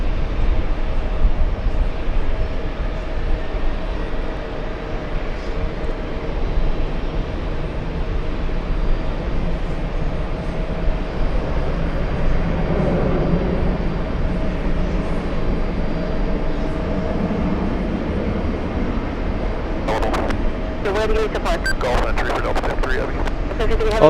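Qantas flight 100 airliner at JFK airport, a steady broadband jet rumble and roar that swells gradually, heard from a distance outdoors with voices and radio chatter over it.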